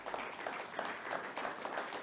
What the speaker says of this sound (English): Ladies and gentlemen, I think they need applause.